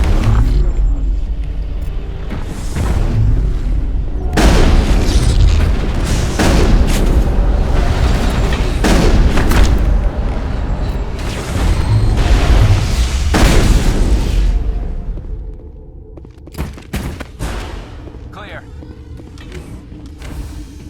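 Heavy gunfire rattles through a Mass Effect firefight, dense loud bursts and booms almost unbroken for about fifteen seconds, then thinning to scattered shots, with shouted voices over the battle.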